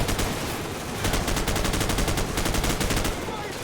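Automatic gunfire from the video game Call of Duty Modern Warfare rattles in a loud, rapid, evenly spaced burst that lasts about two seconds and sits over a dense, continuous background of combat noise.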